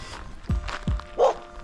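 A loose off-leash dog on a hiking route along a rural creek road, with two short low barks followed by a higher yip, close by and with nothing else around them.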